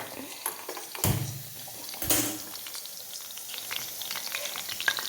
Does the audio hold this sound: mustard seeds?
yes